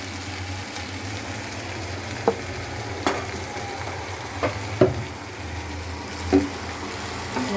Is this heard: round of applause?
no